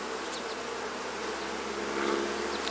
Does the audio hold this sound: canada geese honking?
no